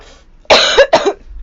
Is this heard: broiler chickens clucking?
no